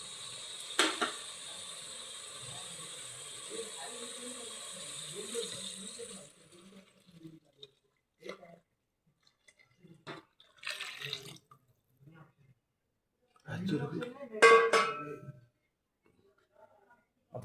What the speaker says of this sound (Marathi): आता याच्यामध्ये मी थोडं गरम पाणी घालत आहे.